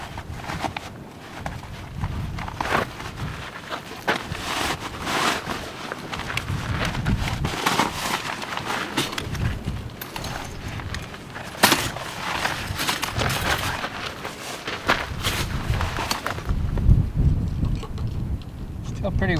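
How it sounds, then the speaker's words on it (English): Strong outdoor wind gusts buffet a microphone beside a parked car. Gusts rise and fall in irregular rumbling bursts, loud and close throughout. "Still pretty windy."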